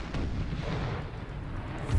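Cannon artillery fire in the video game Empire Total War: a steady, heavy rumble of overlapping booms, fairly loud throughout with a slightly stronger thump near the end.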